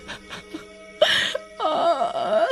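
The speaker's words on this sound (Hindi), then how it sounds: "उस औरत के रोने की आवाजें आने लगती हैं" A voice cries and wails in a ghostly way in a spooky park at dusk, with sobbing breaths first, then a rising moan and a long quavering, wavering wail, heard close and clear.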